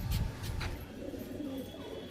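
Kala sabuj pigeons in a loft give low, throaty coos, a few rolling calls close by with soft rustling and bird sounds between them.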